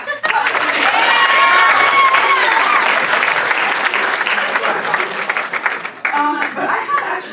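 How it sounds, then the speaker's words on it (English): Audience at a live improv comedy show breaking into loud sustained applause that fades after several seconds, with cheering voices mixed in. "Clap if you think misogyny is bad."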